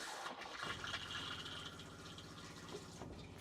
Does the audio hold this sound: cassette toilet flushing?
yes